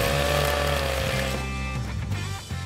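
A chainsaw grinds through thick ice at a Klondike gold-mining site, the engine droning loud and close at a steady pitch before bogging down as the blade bites, with no talking.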